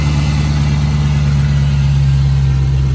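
A supercharged Dodge Challenger Hellcat V8 idles steadily up close, a deep, even rumble with a strong low hum that holds unchanged throughout, with no voices over it.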